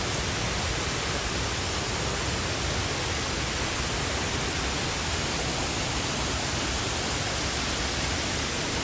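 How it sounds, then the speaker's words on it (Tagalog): Guide Falls waterfall in Tasmania roaring steadily as a dense, broadband rush of falling water, close and continuous with no talk. "So this is the falls."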